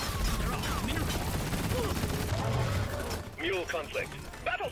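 Dense, continuous video-game gunfire and impact effects from Deep Rock Galactic fill the mix, with people talking over the shooting.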